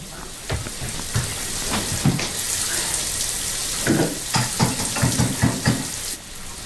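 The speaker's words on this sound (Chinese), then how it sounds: "我那水龙头有点坏了啊。" Water runs from a broken faucet with an uneven splash and a string of sharp clanks and bursts, close by and with no talking.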